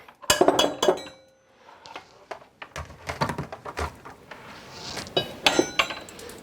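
Eggs and cottage cheese are mixed in a bowl, giving bright, irregular glassy clinks and tapping in quick clusters, close and moderately loud, with brief quiet gaps between bursts.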